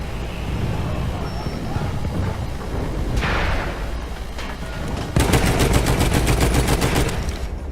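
Rapid machine-gun fire rattles from a gun position aboard an armored train in the Battlefield One video game, a fast steady burst rising in the second half over constant rumbling battle noise and distant explosions.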